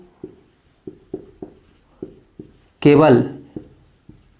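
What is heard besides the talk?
writing on a board during a lesson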